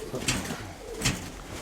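A pigeon coos nearby, two soft low throaty calls about a second apart, over a faint background hum.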